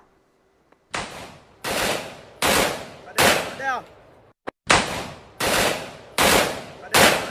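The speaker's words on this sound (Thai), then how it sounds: "เฉลิมฉลองวันฮารีรายอด้วยการยิงปืนขึ้ นฟ้า" Loud M16 rifle shots fired into the sky in a Hari Raya celebration, a slow, regular series of about eight blasts, each followed by a brief ringing echo, recorded close by.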